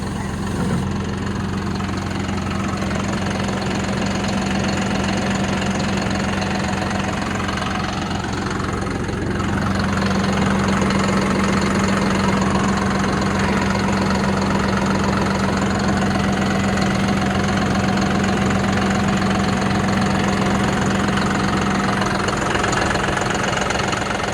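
A John Deere 5075e tractor engine idles nearby in a steady low rumble with a constant hum, holding even for the whole stretch with no voices.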